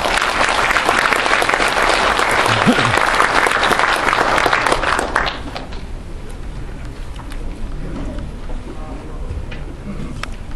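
A large audience at an indoor presentation event in Korea gives loud, dense applause to welcome a speaker. It holds strong for about five seconds, then drops to a faint scatter of clapping and room noise.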